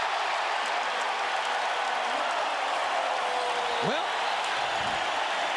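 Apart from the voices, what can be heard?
basketball arena crowd cheering after Jalen Rose's move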